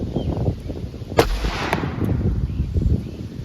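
A single sharp gunshot from about four feet away, a 125-grain .38 +P round fired into bare ballistic gel, cracking loud and close with a brief ringing tail over quiet background.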